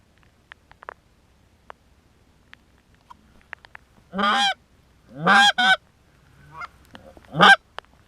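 Migratory Canada geese honk loudly and close overhead, coming in over decoys in rainy weather. Several harsh, nasal honks arrive in bursts after a quiet stretch of faint ticks and patters.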